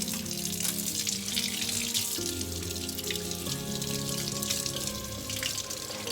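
Steady tap water pours from a faucet onto a makeup sponge at a sink, a continuous close hiss and splash with no talking.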